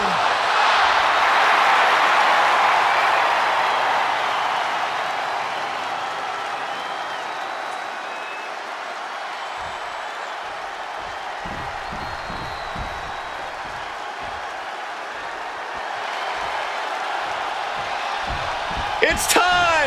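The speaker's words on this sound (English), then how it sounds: "The entire crowd is yeeting!" Wrestling arena crowd at a Friday Night Smackdown event, cheering in a broad, sustained roar that slowly fades to a lower hum, with faint whoops and some sharper shouts near the end.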